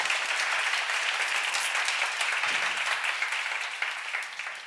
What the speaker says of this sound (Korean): 깨달은 사람만 박수 세게 쳐봐요